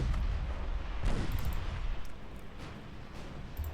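Naval gunfire from warships in the Ultimate Admiral Dreadnoughts game, a few deep, booming cannon blasts with rumbling low tails against steady background noise.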